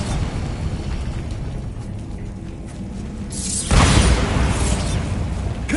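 Bombarda spell from Hogwarts Legacy detonating with a sudden, broad rumbling blast that follows a few seconds of low ambient noise and lingers as a dense roar.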